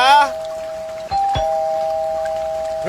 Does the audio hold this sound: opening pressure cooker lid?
no